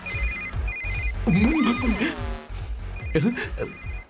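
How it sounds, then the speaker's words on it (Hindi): A phone ringtone chimes in repeated electronic bursts while people talk over it in Hindi, the ringing returning between their lines, in a dubbed action film. "इस वक्त दीदी का फोन।"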